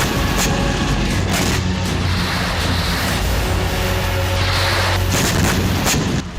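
Repeated heavy booms and blasts from Hezbollah attacks near an IDF headquarters in Ramim, Israel, loud and dense throughout with sharp bursts layered over a continuous rumbling roar.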